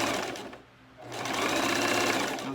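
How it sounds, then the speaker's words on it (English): A Singer Classic sewing machine stitching lace runs with a steady, rapid mechanical whir, pausing briefly before starting up again and stitching continuously at close range. "this is a Singer Classic sewing machine."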